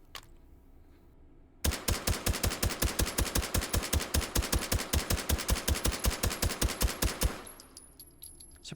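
Suppressed APC 45 carbine fired in the VR game H3VR, a rapid string of about forty evenly spaced shots lasting several seconds, loud and close, then stopping abruptly with a faint clatter after.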